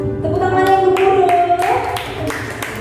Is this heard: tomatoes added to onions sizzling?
no